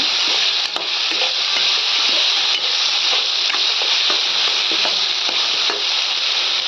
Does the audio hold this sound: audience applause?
no